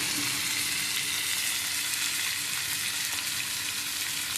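Garlic and ginger sizzle steadily in an oil-filled pan for a mushroom gravy, a dense continuous frying hiss that stays close and loud throughout with no talking.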